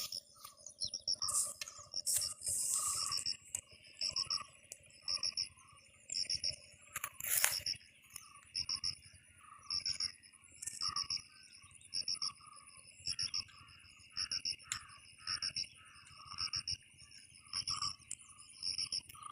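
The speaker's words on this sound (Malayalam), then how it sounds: "രാവിലെ ആയതുകൊണ്ട് തന്നെ കുറേ കിളികളുടെയും ചീവിടിൻ്റെയും അതുപോലെ തന്നെ എന്തൊക്കെയോ കുറേ ശബ്ദങ്ങൾ കേൾക്കുന്നുണ്ട്." Morning chorus at a snakehead fishing spot in Kerala: a steady, rhythmic pulsing of crickets or frogs repeating every second or so, with scattered bird chirps above, moderately distant and continuous without talk.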